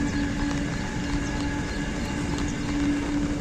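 A freight train of container wagons rumbles past steadily with a low continuous roar and faint rhythmic clatter, close by and loud throughout, near Kopar station in Dombivli.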